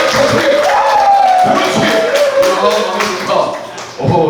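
A church Bible camp retreat audience keeps clapping while a loud voice calls out over them, the applause swelling and dipping under the speech before a final burst at the end.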